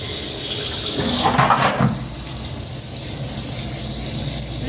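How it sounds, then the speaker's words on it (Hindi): Water gushes and splashes steadily while clothes are washed by hand at home, a loud continuous rush with a brief burst of sloshing near the start, no voices. "मैं सिर्फ ये कपड़ियाँ धो रही हूँ।"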